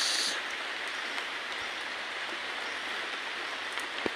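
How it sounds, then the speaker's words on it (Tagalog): Steady hiss of heavy rain, broadband and continuous, with no voices and only occasional faint knocks. "Ilang araw na rin kasi dito mitigil yung ulan."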